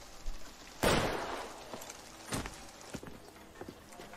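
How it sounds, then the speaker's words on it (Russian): A sharp gunshot in the LA Noire video game bursts out near and loud, followed by a quieter second crack and a few faint thuds in an otherwise hushed scene. "Он ему в руку вроде выстрелил."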